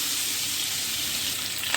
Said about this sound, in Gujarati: અને આવી રીતે આપણે હલાવી લઈશું